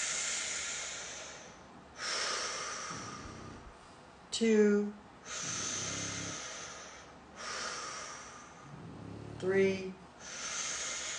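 Slow, deep nasal breaths during a guided breathing exercise, long airy inhales and exhales repeating at an unhurried pace, close and clear, with a calm voice counting softly between breaths.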